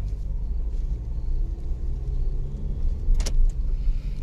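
Suzuki Swift automatic petrol car creeping off once the brake is released: a steady low engine and road rumble heard from inside the cabin, with a brief clinking near the end.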